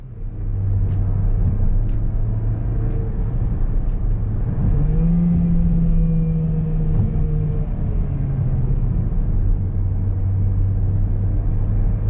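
A modern post-2020 Mercedes in manual gearbox mode is heard from inside the cabin as a loud, steady engine drone, with one rev climbing and holding in the middle before it settles back to a constant hum.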